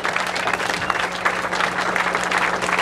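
A crowd at a live From A Second Story Window rock show, Robot Mosh Fest 2006 in West Bend, Wisconsin, claps loudly and steadily in dense, sustained applause with no break, without voices over it.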